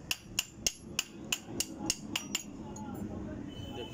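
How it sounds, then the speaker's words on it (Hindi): A hammer drives the gear shaft out of a Hero motorcycle engine, about ten sharp metallic strikes in a steady rhythm that grow slightly softer, close by, followed by a low murmur of background noise. "गियर शाफ्ट नहीं निकल रहा है तो उसको ठोक के निकाला जा रहा है।"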